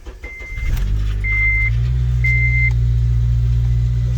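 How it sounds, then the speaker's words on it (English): A car engine cranks over and catches, then settles into a steady, loud low idle that runs on to the end, with a few thin electronic beeps sounding early on. "so I'm gonna start the car now."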